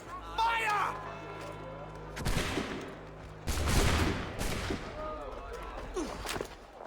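Musket volleys in the Assassin's Creed 3 video game: two sharp, massed bursts of gunfire a little over a second apart, with battlefield shouting and voices around them.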